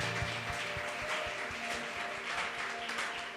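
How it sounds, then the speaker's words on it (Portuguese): Before the benediction at a Portuguese-language church service, a congregation claps with a distant, reverberant wash of applause. Some individual claps stand out while a sustained organ-like tone hums underneath. "pode aplaudir o Senhor, glória a Deus."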